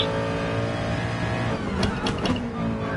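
A racing car in a video game drops through quick downshifts, its engine droning steadily. A few sharp blips of revs cut through near the end.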